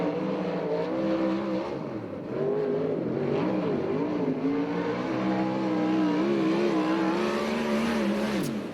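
A USAC/CRA sprint car with an Ellis chassis and Billywood Racing engine runs a qualifying lap at Alger, Washington, its engine screaming loud and steady throughout, pitch rising and falling as the driver works the throttle around the track.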